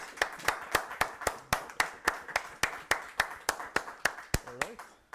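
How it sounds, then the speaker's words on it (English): Audience at a Netrunner card game championship finals clapping, a steady rhythmic run of about twenty sharp claps at an even pace, close and fairly loud, ending with a brief vocal sound. "you can applaud me for organizing this event if you want to, but you already did"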